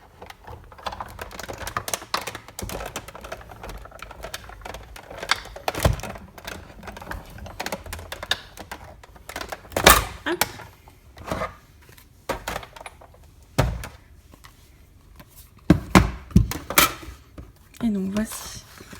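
A die-cutting machine with magnetic dies cuts paper in a run of irregular clacks, thumps and short mechanical rattles, close up, mixed with occasional talking between the bursts.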